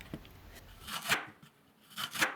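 Thin slices of lotus root cut with a knife on a board, a few crisp separate chops in an uneven rhythm, close and fairly quiet.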